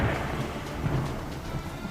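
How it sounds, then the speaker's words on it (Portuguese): A thunderstorm at sea in an animated Bible cartoon of the story of the prophet Jonah: a continuous, loud rumble of thunder over a steady wash of rain, with no voices. "de repente veio uma tempestade, onde colidiam com o navio"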